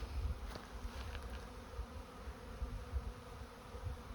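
Bees and wasps swarm around a beehive during fall feeding, a constant low droning buzz close by with insects passing near, no talking.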